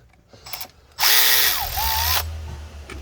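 A power tool whirs loudly for about a second as a bolt is tightened down on a ground cable of a 2022 Porsche Macan 2.0L, preceded by faint clicks and followed by a low hum.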